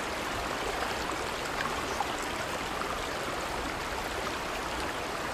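A waterfall from the film A Quiet Place roars as a steady, dense rush of falling water, continuous and alone with no speech.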